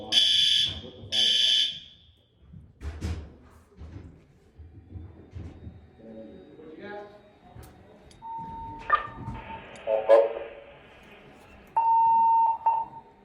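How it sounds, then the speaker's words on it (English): Fire alarm beeping during a test of a new alarm system in an apartment building, with loud repeated tones at the start and more electronic beeps and buzzing toward the end, while people talk nearby between the signals. "they're testing the alarm"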